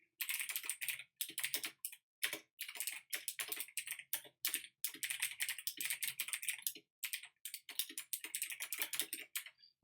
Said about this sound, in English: you're just going to have to bear with me while I type this.